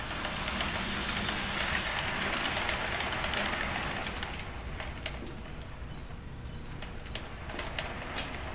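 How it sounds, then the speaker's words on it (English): A yard engine in a freight yard creeps ahead along the track with a steady, broad rumble and hiss, fading slightly partway through, and faint metallic ticks and clanks scattered over it. "the yard engine can move ahead"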